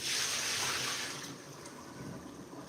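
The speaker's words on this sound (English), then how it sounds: "Our water is bubbling." A pot of water on the stove bubbles with a steady, wide rushing hiss that fades somewhat partway through.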